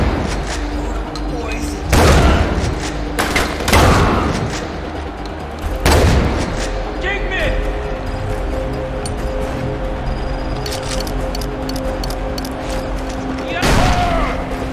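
Shotgun blasts in Far Cry 4 during a prison escape, several loud booming shots spaced a couple of seconds apart, each with a short echoing tail, with someone talking between them.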